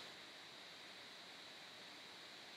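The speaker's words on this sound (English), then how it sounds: "Sorry that the fan is so loud." Loud computer cooling fan whirring as a steady, even broadband hiss with a faint high whine, constant throughout with no speech.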